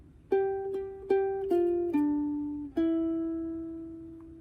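A ukulele picks a short melody of six plucked notes from "Al Hanissim," each ringing out and fading, the last one held longest.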